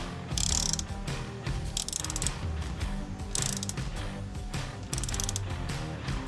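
Hand ratchet tightening the bolts of a Molecule Motorsports skid plate, rapid repeated clicking in several bursts with metallic handling noise, close and fairly loud.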